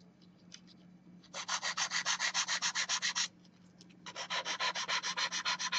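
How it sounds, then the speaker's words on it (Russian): A nail file rasps rapidly back and forth over a corrected fingernail structure, two close, even bursts of quick rhythmic strokes separated by a brief pause, with no speech. "И опиливаем конструкцию нашего ногтя."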